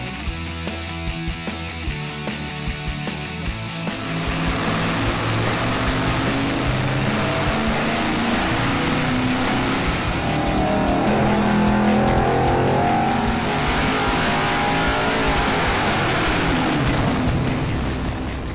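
Small block V8 engine making a full-throttle dyno pull on a 150 shot of nitrous, a loud sustained roar that builds in intensity after a few seconds and holds steady to the end.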